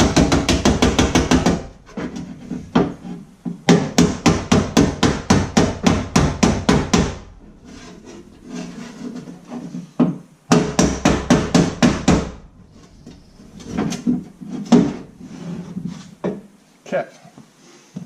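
A hammer taps a backing block set against a 1986 Ford F250 door while working on a power window motor, giving rapid bursts of sharp metallic-wooden knocks in quick runs separated by short pauses, loud and close.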